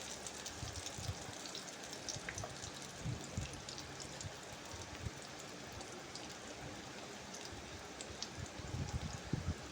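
Potatoes deep-frying in oil in small batches for restaurant-style French fries, a soft continuous bubbling crackle with scattered pops, fairly quiet and steady.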